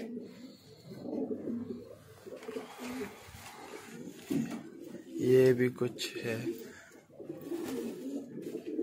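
Grizzle pigeons coo softly and repeatedly nearby while someone talks over them.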